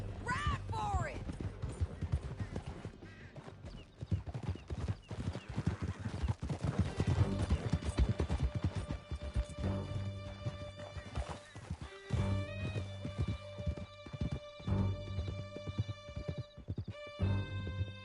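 Galloping horses in Red Dead Redemption 2 pound out steady clip-clop hoofbeats while a horse neighs and whinnies, with voices talking over a busy game soundscape and a few sharp gunshots.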